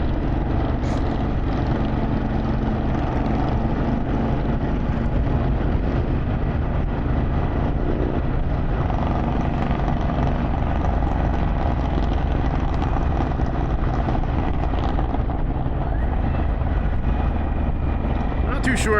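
A group of about six motorcycles, among them an Indian Challenger with Vance Hines exhaust, rides near Bear Mountain. Their engines blend into a loud, continuous roar mixed with heavy wind rush, and a voice talks over it.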